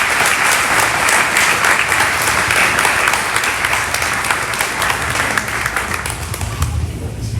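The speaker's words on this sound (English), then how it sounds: "give a round of applause for our sister Jackie" Audience applause at a family eulogy gathering, honouring an absent sister named Jackie: dense, sustained clapping from a full room, steady and loud throughout before easing slightly near the end.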